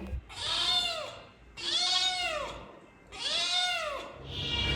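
A cat meows three times in succession, each call a long, clear, rising-and-falling cry with short pauses between, close and loud in a quiet home, followed by a brief softer sound at the end.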